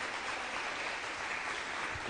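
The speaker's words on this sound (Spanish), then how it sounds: "un aplauso" Audience applause at a church gathering reenacting the Last Supper, a steady wash of clapping from a crowd at moderate level, continuous for about two seconds with no talking over it.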